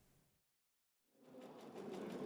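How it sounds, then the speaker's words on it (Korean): A sewing machine stitching conductive thread to sew a textile antenna, a brief quiet whir that stops into near silence, then a steady louder mechanical running that builds and continues to the end. "전도성 있는 실을 재봉틀에 넣어 안테나를 순호화 만듭니다"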